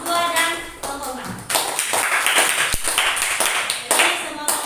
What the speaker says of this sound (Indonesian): tepuk tangan untuk kelompok 3, 2 dan kelompok 4